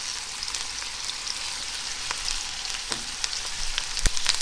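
Close, steady sizzling of wet food frying in oil that is not scorching hot, a continuous crackle with occasional louder pops.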